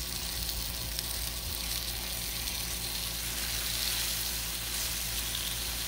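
Bacon sizzles on a Blackstone griddle over medium heat, a dense, even hiss that holds steady at close range with no talking.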